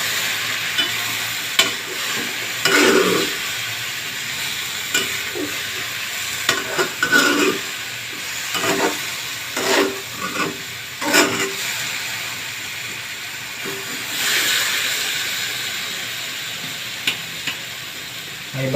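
Bitter gourd (ampalaya) stir-fries in a pan, with a steady sizzle broken by repeated scraping stirs and clattering utensil strokes in irregular bursts.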